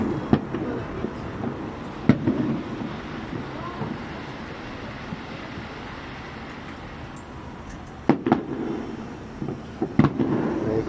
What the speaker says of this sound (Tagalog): Firework display